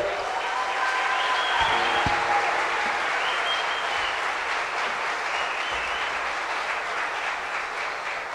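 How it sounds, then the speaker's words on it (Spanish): Audience at a music recital gives sustained applause welcoming a performer's father to the stage, a steady dense crowd clap with a few brief whistles and tones over it, continuing evenly for several seconds. "Vamos a darle un fuerte aplauso de una bienvenida a tu padre, Alberto Cordero."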